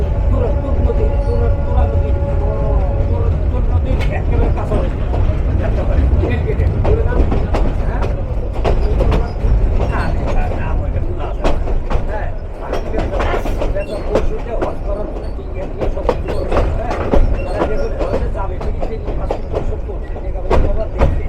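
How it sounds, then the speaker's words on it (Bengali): A Lalmonirhat commuter train pulls into Lalmonirhat railway station, its loud rumble building into a rhythmic clatter of wheels over rail joints that carries on throughout, with no talk. "অল্প কিছুক্ষণের মধ্যেই আমাদের লালমনিরহাট কমিউটার প্রবেশ করবে আইকনিক লালমনিরহাট রেলওয়ে স্টেশনে"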